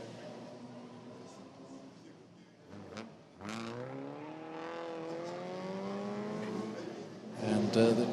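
A vintage Delage race car passes by, its engine note sweeping up in pitch and swelling louder, with another car snarling close at the end, while a commentator talks over it.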